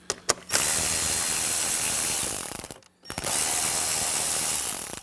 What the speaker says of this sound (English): That's where the ratchet comes in very handy.